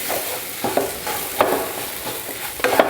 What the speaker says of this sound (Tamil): ஒரு 2 நிமிஷம் இந்த மாதிரி மசாலா பொடியெல்லாம் போட்டு வதக்கி எடுத்துக்கோங்க